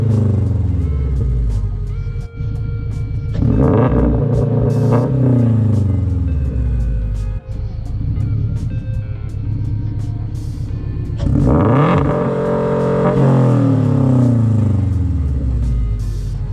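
Toyota GR86 engine running on E85 fuel revs hard to high RPM twice in close succession, each sweep climbing and falling back to a loud, steady idle between pulls, recorded close up with no talking.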